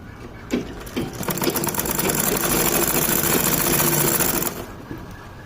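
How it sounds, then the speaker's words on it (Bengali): A sewing machine stitches the seam of a half-pant, starting with a couple of short bursts and then running steadily in a fast, even mechanical rattle for about four seconds before stopping, close and alone. "একইভাবে আমাকে সেলাই করে আসতে হবে"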